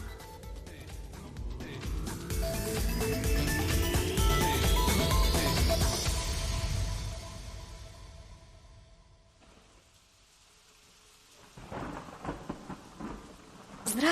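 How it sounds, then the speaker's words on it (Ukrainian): Sound effect of heavy rain with rolling thunder in a Ukrainian radio drama of Fahrenheit 451: a loud, dense downpour with long booming rumbles that fade after about seven seconds, leaving quieter rain and a few closer bursts near the end. "Так добре, коли дощить."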